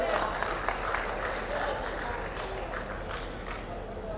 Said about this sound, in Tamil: அனைவருக்கும் நன்றி கூற இன்னொரு கரகோஷம் கொடுக்க வேண்டும்